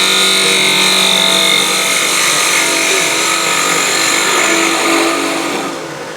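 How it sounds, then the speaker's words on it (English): A bowl gouge makes a bevel rubbing cut on end-grain wood spinning on a lathe, a continuous loud, hissing scrape with a steady whine that holds evenly, then fades slightly at the end. "Bevel rubbing cut with a bowl gouge."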